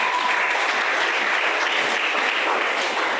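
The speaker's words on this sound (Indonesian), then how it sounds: "Berikan tepuk tangan yang meriah." Church congregation applauding during a service: dense, sustained clapping at an even loud level throughout, with no voices standing out.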